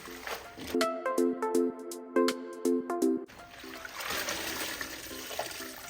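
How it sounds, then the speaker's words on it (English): Collard greens are swished by hand in a sink of water and vinegar, giving a close, continuous sloshing after a short run of bright tonal notes. "I'll just go in with my hands and just switch them around in the water and vinegar to get them cleaned."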